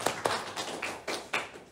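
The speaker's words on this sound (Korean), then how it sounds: "박수!" A small congregation claps together briefly after a cue in a church gathering, a short burst of several scattered, fairly close hand claps with uneven rhythm and no talking.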